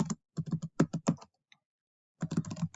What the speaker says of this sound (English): feel free to pause the video if I'm typing too fast or if you need to catch up